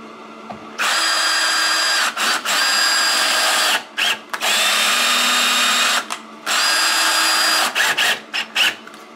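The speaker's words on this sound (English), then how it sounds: "You just put in a screw up the studs about every 8 inches." A power drill drives screws through cement board into wall studs, whining at close range in several long runs broken by brief stops as each screw seats, with no talking.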